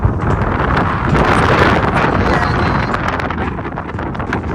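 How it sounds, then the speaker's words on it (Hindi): Cool wind blowing outdoors in a village, loud and steady as it buffets the microphone throughout with a rough, roaring rush, while a voice speaks a few brief words underneath. "इतनी प्यारी ठंडी ठंडी हवा चली हुई है।"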